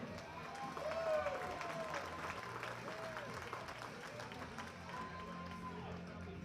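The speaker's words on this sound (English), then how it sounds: "A big round of applause for Ryan Donnelly." Steady audience applause at a powerlifting awards ceremony, continuous clapping from a crowd across the whole stretch with a faint announcer voice under it.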